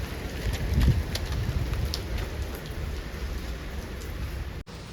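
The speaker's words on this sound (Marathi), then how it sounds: "पाऊस बघा" Steady rain falling with a soft, even hiss, a few faint bird calls in the background.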